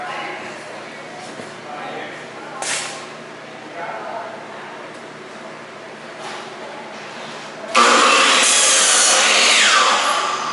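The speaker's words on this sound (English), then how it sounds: "These gentlemen are cutting 2x4s for wall studs for the back wall of the main set." A saw cuts 2x4 lumber into wall studs for a set's back wall; softer scraping and rubbing gives way to a loud, sustained burst of sawing near the end, with voices in the background.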